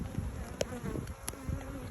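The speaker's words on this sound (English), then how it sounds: "Lots of bees, lots of comb." A dense, steady hum of many honeybees buzzing close by in an open hive, with a few brief clicks and bumps over the continuous drone.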